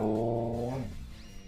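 A husky dog gives a low, drawn-out growl up close, a rumbling tone that slides downward and fades into quiet after about a second.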